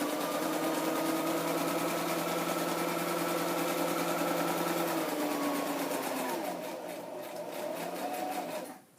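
A sewing machine stitches steadily and continuously at close range, a dense mechanical whir with a rapid rhythmic needle chatter that slows and shifts slightly toward the end, with no talking.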